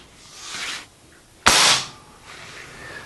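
An Umarex Komplete air rifle charged with a nitro air cartridge fires a single JSB 13.43 grain pellet, one sharp close crack with a brief rushing tail, set between softer handling sounds.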